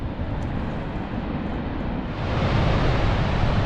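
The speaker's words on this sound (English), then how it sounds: "This is Dettifoss. This is the most powerful waterfall in Europe." Dettifoss waterfall in Iceland, Europe's most powerful, roaring as a broad, steady wall of rushing noise heard from close by, swelling slightly louder toward the end with no voices.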